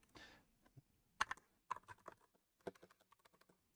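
Keys clicking on an MSI GK320 entry-level mechanical hotswap gaming keyboard, heard close up as an irregular run of sharp taps and short bursts of typing, with soft handling noise at the start.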